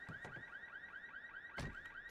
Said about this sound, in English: Why does it keep making this honk?